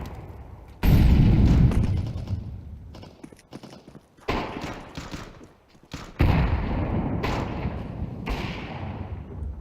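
Heavy thuds and booming blasts of flashbang and grenade explosions in a shooter video game, three loud bursts with rumbling tails separated by quieter gaps.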